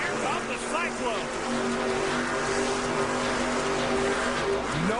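The Cyclone monster truck roars at a 2001 Monster Jam event, its engine a steady, loud drone under continuous announcer commentary and crowd noise.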